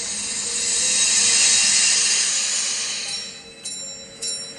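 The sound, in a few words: bell ringing inside a vacuum chamber as air is let in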